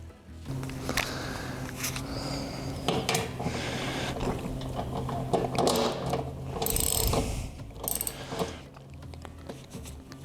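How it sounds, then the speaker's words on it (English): A cable tightener on a lawn mower being screwed back in during blade replacement, giving close, continuous mechanical ratcheting and clicking with metallic rattles, fairly loud and without talk. "Screw the cable tightener back in."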